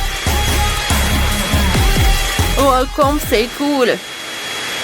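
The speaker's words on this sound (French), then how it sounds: "Et maintenant, je vais le faire fondre avec un sèche-cheveux." Steady whooshing drone of a hair dryer melting colored chocolate in a bowl, running continuously under excited French talk from a child and an adult.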